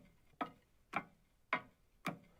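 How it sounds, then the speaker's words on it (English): Footsteps on glass in a surface-material sound effect: four crisp, hard taps at a steady walking pace, each short and bright with a quick fade, quiet and alone. "It's actually footsteps on glass,"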